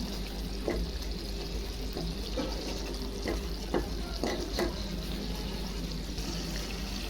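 Spicy masala paste being stir-fried for a home-cooked Bangladeshi fish curry, a steady low sizzle under repeated scraping strokes of a spoon against the pan, close and continuous with no talking.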